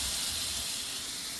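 Steady hissing sizzle as bread dipped in ice cream is set into a hot pan, loud and close, with a brief low thud at the start and no voices.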